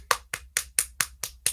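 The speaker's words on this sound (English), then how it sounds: "A round of applause, everybody." Clapping at a comedy show: seven sharp, evenly spaced claps in a steady quick rhythm, close and fairly faint, with no talking.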